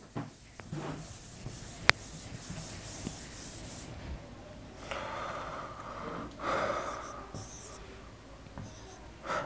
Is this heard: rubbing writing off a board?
yes